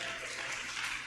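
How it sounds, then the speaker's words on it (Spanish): Church congregation applauding during a sermon, a steady, even roar of many hands clapping with no voice over it, brief and moderately loud. "Dele ese aplauso al Señor Jesús"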